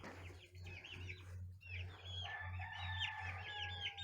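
Chickens and young roosters on a homestead cluck and call near the mic, with repeated crowing phrases layered over a low steady hum.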